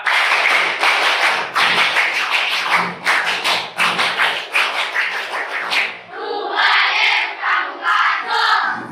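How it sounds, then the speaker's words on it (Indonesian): A school class performs the rhythmic Indonesian scout clap twice, bursts of sharp synchronized hand claps with shouted voices, ending in cheering and chatter. "2 kali tepuk pramuka."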